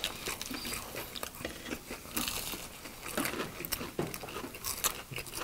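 Close, crisp crunching of British-style fried fish and french fries being bitten and chewed, a steady run of sharp crackles over about five seconds with no talking.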